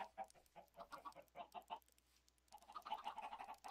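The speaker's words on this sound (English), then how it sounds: "I have absolutely no idea what to do with these chickens" Chickens in the video game Minecraft cluck in a busy run of short, repeated calls, a pause, then another burst of clucking, fairly close and clear with no talk over them.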